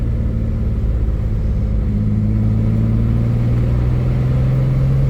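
A Grand Prix fitted with a junkyard engine and a bigger turbo accelerates hard, a loud, steady low engine drone heard from inside that rises gradually in pitch, with no talk.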